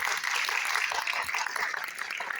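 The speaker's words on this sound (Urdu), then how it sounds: "ان کے لیے تالیاں عباس طارق صاحب." Audience applause at a literary conference, a sustained burst of clapping from a crowd, fairly loud and even, fading slightly toward the end.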